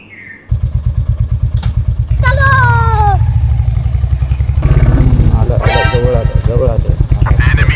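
A motorcycle starts and settles into a loud, close, rapid engine throb that carries on steadily, with people talking over it.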